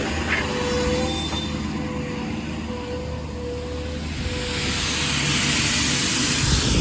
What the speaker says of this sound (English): Go ahead and kick the air compressor on first.